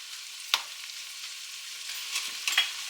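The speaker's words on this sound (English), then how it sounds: "Get the soy sauce and brown sugar stirred around with the rest of it." Ramen noodles stirred in a pan with soy sauce and brown sugar, a steady soft sizzle broken by a few brief scraping strokes, near and fairly quiet with no talking.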